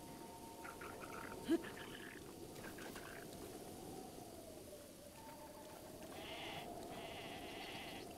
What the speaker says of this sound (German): Oh, die Schafe!